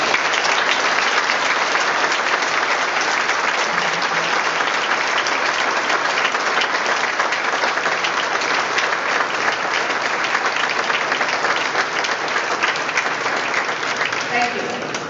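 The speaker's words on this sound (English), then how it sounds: "Can we give them another hand?" Sustained applause from a debate audience at the October 2012 Regina mayoral debate, hosted by the Regina & District Chamber of Commerce, a dense steady wash of clapping that holds loud for the full stretch and tapers only slightly at the end.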